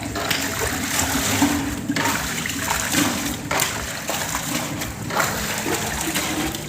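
A water pump runs during swimming pool cleaning, giving a steady loud rush and gurgle of moving water with some splashing, close and continuous throughout.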